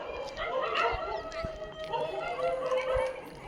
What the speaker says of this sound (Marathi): ते बघ कुत्रे आले सगळे